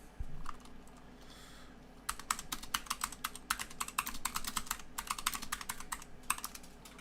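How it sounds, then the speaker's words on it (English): Rapid, continuous typing on a loud mechanical keyboard, close to the microphone: a few isolated key clicks at first, then a dense clattering burst of keystrokes that carries on steadily to the end. "We all have mechanical keyboards, so they all are clickety-clackety."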